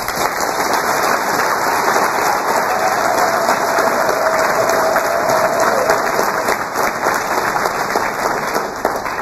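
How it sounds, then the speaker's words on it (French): Audience at a presidential inauguration speech applauding invited guests, a loud, steady roar of clapping that stays continuous and even throughout. "je vous demande d'applaudir nos invités"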